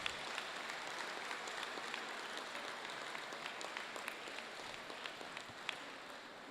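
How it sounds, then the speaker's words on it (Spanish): Audience applause at the closing ceremony of a regional victims' forum in Barrancabermeja, Colombia: a steady, fairly faint wash of clapping that lasts throughout, with scattered sharper claps. "Les invitamos a que nos demos un abrazo y un aplauso por la reconciliación y la paz de nuestra querida Colombia."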